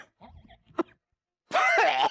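During a comedy stage show, a person gives a sharp cough and throat-clearing amid brief voiced sounds, then a louder, rougher burst follows after a pause.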